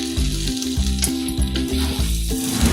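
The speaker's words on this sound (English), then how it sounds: "Fry it for 2 to 3 minutes on low flame." Garlic mushroom fried rice sizzles in a pan over a low flame, a steady crackling fry broken by rhythmic scraping strokes of stirring, close and clear with no talk.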